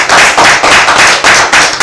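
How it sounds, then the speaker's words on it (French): A studio audience claps loudly and up close in dense, steady applause, with rhythmic pulses running through the brief burst. "Merci de vous applaudir vous-même"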